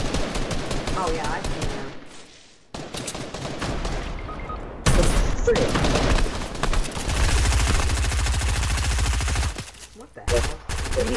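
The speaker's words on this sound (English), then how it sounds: "These shots are coming through trees, walls, rocks." Rapid bursts of gunfire in a Fortnite match, loud and close, rattling in dense volleys with brief pauses between, while a player talks briefly over the shots.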